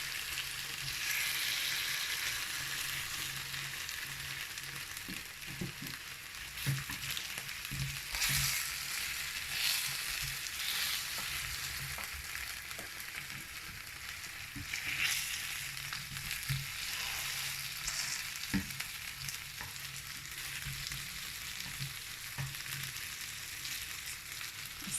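Spicy chicken pieces frying in a pan, a steady close hiss of sizzling oil with scattered soft crackles and light stirring knocks throughout.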